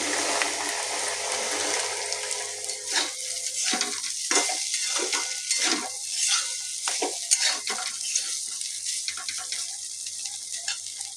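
Chicken curry simmering and frying in a pan, a continuous sizzle with rhythmic stirring scrapes repeating every half second or so, close and moderately loud with no talk.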